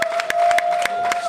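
An arena crowd cheers and claps after an MMA tournament final as the champion receives his belt, with loud rhythmic bursts of noise over a steady tone.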